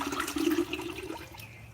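Water poured from a container onto plant cuttings during propagation on a suburban homestead, a steady close splashing pour lasting under two seconds with no talking.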